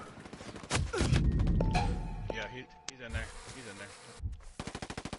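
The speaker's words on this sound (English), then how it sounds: "I hear gunfire." Gunfire in the tactical shooter game Ghost Recon Breakpoint, bursts of automatic fire and shots in a firefight, with a player speaking briefly over the shooting.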